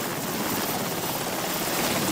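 A helicopter flies over open sea on an anti-piracy patrol in the Gulf of Aden, its steady broadband rotor and engine roar filling the whole moment at an even, fairly close level with no speech.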